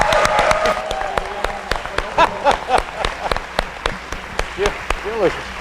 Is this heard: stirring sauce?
no